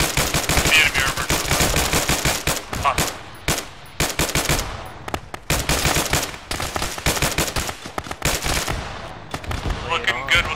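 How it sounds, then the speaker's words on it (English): A BMP cannon fires in a military video game, long bursts of rapid heavy shots alongside scattered gunfire, loud and close, with radio chatter mixed in. "That's a BMP cannon."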